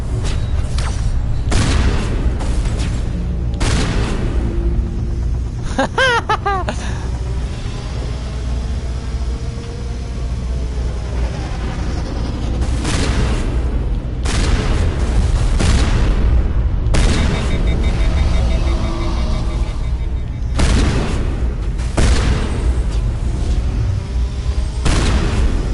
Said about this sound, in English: I'll just get my high-powered super shotgun real quick.